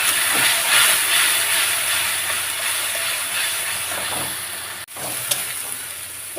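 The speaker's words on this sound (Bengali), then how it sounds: "এইবারে এটা কষতে থাকবো, এটা ভালো করে কষবো, তার জন্য একটু জল দিয়ে দিলাম" A paste of ground chili, onion, cumin and coriander fries in a pan with a splash of water for a fish curry, producing a loud, steady sizzling hiss that barely changes from start to end.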